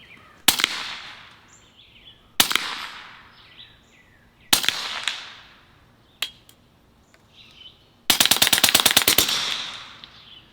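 Gunshots fired at a moldy cantaloupe target outdoors: four loud separate shots a couple of seconds apart, each with a ringing echo, then a fast burst of about a dozen rapid shots.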